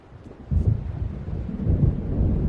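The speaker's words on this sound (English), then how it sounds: "It seems there's a storm coming." Deep rumbling thunder from an approaching storm in Alan Wake Remastered rolls in low and heavy, swelling after a quiet start and sustaining as a continuous rumble with a rain-like wash.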